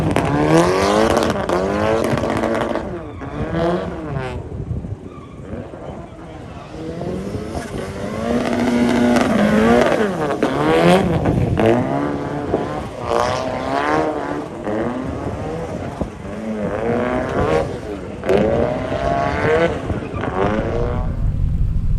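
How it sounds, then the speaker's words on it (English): Turbocharged Mazda MX-5 rolling past at a car meet, its engine note rising and falling with throttle as it passes nearby, over crowd noise and other engines. "This MX-5 sounded awesome rolling past, man."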